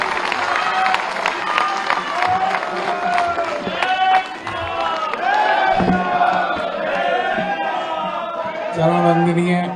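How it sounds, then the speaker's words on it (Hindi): A large audience at a conference gathering in Ghaziabad breaks into loud, sustained applause mixed with cheering and shouted voices, a dense continuous roar that stays strong for the whole stretch. "एक बार जोरदार तालियों के साथ"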